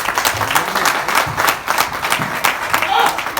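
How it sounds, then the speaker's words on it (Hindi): A group of friends at a Holi get-together claps together, steady lively applause close by with a few voices mixed in. "तो एक बार तालियां बजा दो सारे भाई मिलके"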